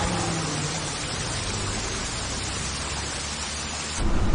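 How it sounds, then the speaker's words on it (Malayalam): Heavy rain pouring on a new route in Wayanad, a loud, dense, unbroken roar of water that swells slightly louder at the end, with no voices. "ഒരു പുതിയ റൂട്ടില് ഭയങ്കര മഴ"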